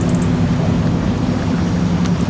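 A ferry engine in a farming video game drones loud and steady, a continuous low hum with a rumbling texture and no voices over it.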